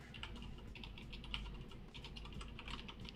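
Fingers type rapidly on a computer keyboard during web coding, a continuous soft patter of key clicks over a low steady hum, with no talk.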